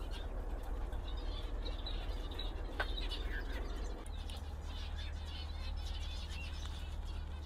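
Pigeon chicks in an aviary chirp faintly and intermittently over a steady low hum and broadband background noise, with a brief bird flutter or call partway through.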